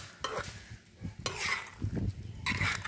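A pea and paneer curry in a Bengali-style dish is stirred in a pan with ghee, giving soft scraping strokes and a low sizzle. Three or so close stirring passes come with a faint clink of the utensil on the pan.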